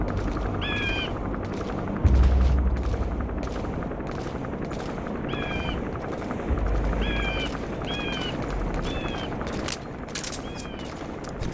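Helicopter and gunfire in Metal Gear Solid V: The Phantom Pain, with rapid bursts of automatic fire and scattered shots over a continuous rotor drone and low booms, plus short chirping signals recurring throughout.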